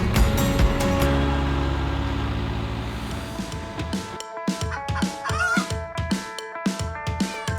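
Chickens cluck in a quiet mountain farming village, with sharp, rhythmic calls close by in the second half. Steady low background noise fades out first.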